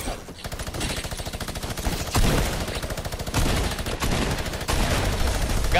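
Rapid automatic gunfire in a multiplayer shooter video game, loud sustained bursts of fast regular shots broken by brief gaps, close and dominant.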